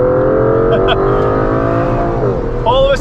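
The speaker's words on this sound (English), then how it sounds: "Got it in Sport Plus mode, and let's hear that V12." Aston Martin DBS Superleggera Volante with its 715-horsepower V12 in Sport Plus mode; a loud, steady engine drone holds for most of the stretch, then swings upward in a sharp rev near the end.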